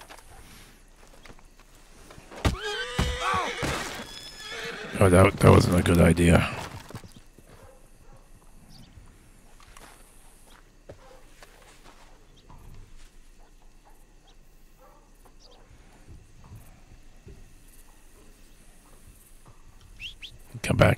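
A horse in the Red Dead video game gives a loud whinny and snorts amid hoof clops and bird chirps, followed by a long stretch of quieter ambience, with someone talking over part of it.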